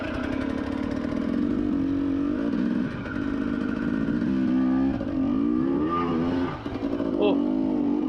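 Dirt bike pulling away after a pivot turn during training, engine revving loudly and steadily up close with rising and falling pitch, and the rear wheel slipping out.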